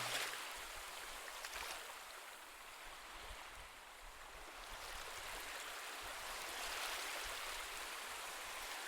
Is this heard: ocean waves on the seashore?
yes